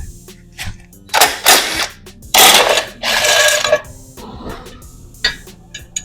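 Metal clicks and scraping as a screw is worked loose from a side cover on an Italika FT110 motorcycle being fully taken apart for a café racer build, coming in several short loud bursts with quiet gaps between them.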